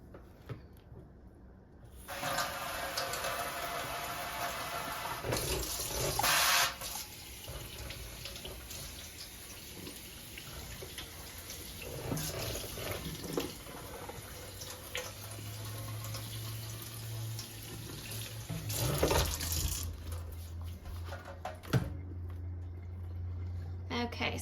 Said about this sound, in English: So I'll go ahead and wet the outside, wet the inside